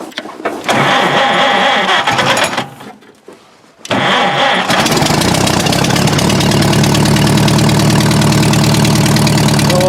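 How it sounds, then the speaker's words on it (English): An old Dodge truck engine cranks and catches after sitting for a decade, a brief pause, then starts again and settles into a loud, steady idle heard close by. "I leave it in gear just to make sure it'll start for me"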